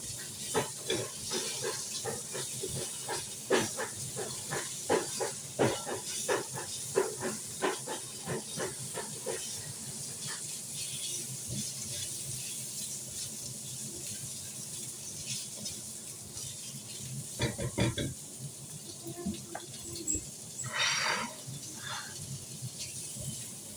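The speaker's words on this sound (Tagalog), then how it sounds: "So, fry lang natin. Hanggang sa lumambot." Pork ribs frying in a pan with tofu, long beans and carrot, a steady soft hiss and sizzle with scattered crackles and pops, fairly quiet.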